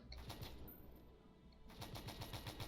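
A mouse-aimed gun in the video game Stormworks fires rapid bursts at a hillside, two quick rattling volleys separated by a short pause, moderately distant and fairly quiet.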